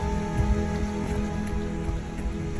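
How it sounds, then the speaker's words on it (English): Light rain patters steadily on a surface by a river, a soft continuous hiss with a low background rumble and no voices. "Got a bit of rain at the minute, but it's not too bad."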